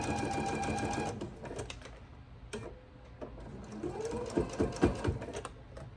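Sewing machine working slowly through thick quilt seams, a close run of rapid needle ticks that pauses and restarts in short bursts with no talking.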